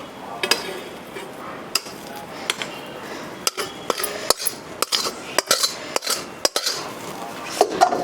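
Cooked dabeli potato filling being scooped out of a pan onto a plate, with repeated sharp metallic clinks and scrapes of a spoon against cookware in an irregular rhythm, close and fairly loud.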